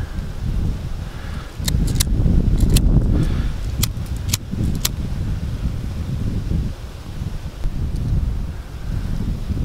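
Steady wind gusting outdoors on a small island during wild swimming, a loud continuous low roar buffeting the microphone with brief rattling clicks, no voices.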